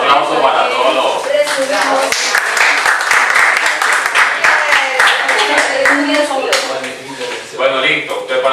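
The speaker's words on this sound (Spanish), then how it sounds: "Un aplauso para todos los..." Loud, close audience applause in a round-table classroom session, brisk continuous clapping with voices chattering and cheering through it, tapering near the end.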